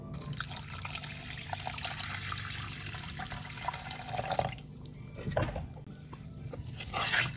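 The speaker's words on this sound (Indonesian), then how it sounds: "Setelah tercampur seperti ini, tambahkan 600 ml air" Water poured into a pudding mixture in a home kitchen, a steady close pour and trickle with a brief louder splash near the end.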